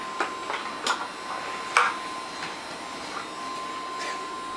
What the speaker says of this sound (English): Hoover. Hoover.